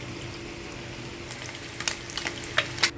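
Food for a curry fries in a pan, a steady soft sizzle with crackling pops that grow busier toward the end, no voices.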